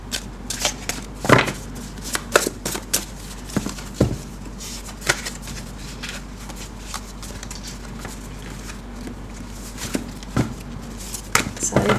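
Tarot cards shuffled and laid out by hand in a steady run of soft papery riffles and taps, with a few sharper snaps scattered throughout.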